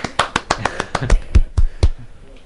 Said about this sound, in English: I feel like I deserve a round of applause.